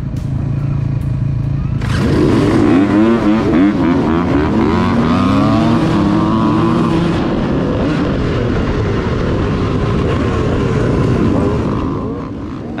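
A big row of dirt bikes launches off the start line at a dry, dusty AMA hare scramble race, engines rising together into a loud, sustained multi-bike roar that fills the air for the rest of the clip.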